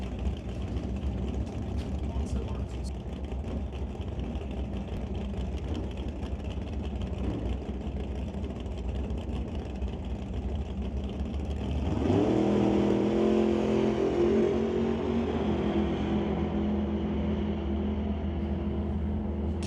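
A Chevy Camaro drag car launches and roars down the track at a drag racing event, engine noise building to a loud, sustained howl in the second half after a rumbling start.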